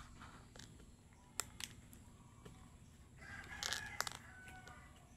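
A rooster crowing at a moderate distance, one drawn-out crow near the end over a quiet background with a few faint clucks and clicks.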